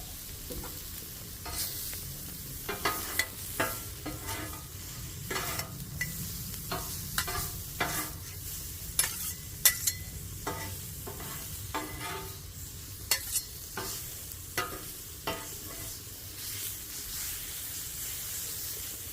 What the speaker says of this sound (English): Start mixing in my kielbasa.